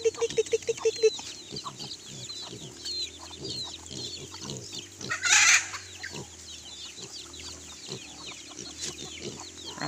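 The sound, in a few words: native chickens on a farm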